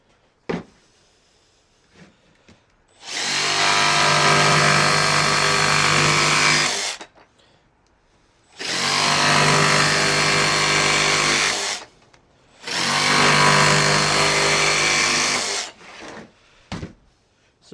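Cordless Makita DJV184Z jigsaw on a 5 amp hour battery cuts through 1/2 inch material in three loud, close bursts of several seconds each, separated by short quiet gaps, with no voices.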